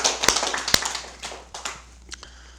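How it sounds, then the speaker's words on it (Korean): Applause from a gathered audience at a Buddhist Zen dharma talk and prayer service, a short burst of scattered hand claps with a few sharp louder claps that thins out over a couple of seconds. "이제 우리 박수 한번 보내주시죠"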